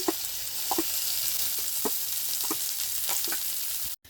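Onions fry in a pan for village-style dal tadka, giving a constant close sizzle with a few light scrapes of a stirring spoon, then a sudden brief cut near the end.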